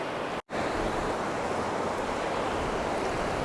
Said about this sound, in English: look at this lovely weather. Look at the waves coming in.